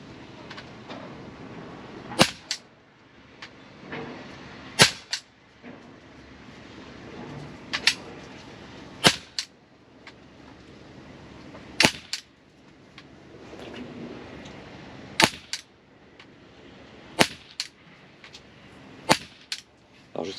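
Shots from an Umarex Glock 17 Gen 5 4.5mm BB air pistol: sharp, loud snapping reports fired singly at irregular intervals of a second or two, roughly ten over the span, with quiet handling noise between.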